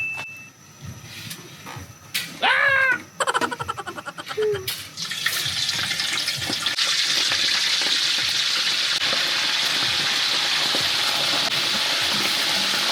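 Free-range chicken quarters dropped into hot oil for deep frying, first some clatter and scraping, then a loud, dense, continuous crackling sizzle that builds and holds steady up close.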